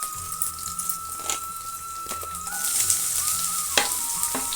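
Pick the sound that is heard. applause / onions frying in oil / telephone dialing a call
onions frying in oil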